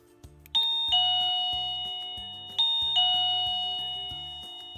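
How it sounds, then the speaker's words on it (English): A classroom doorbell rings twice in a kindergarten room when a timer ends, each a clear ding-dong chime that rings out and slowly fades, with soft clicks just before. "So when the timer's up, I go ahead and ring my doorbell."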